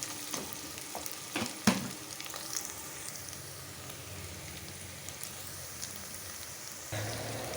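Onions frying with rock salt in a pan, a dense steady sizzle up close with a few sharp stirring clinks and scrapes early on, no voices.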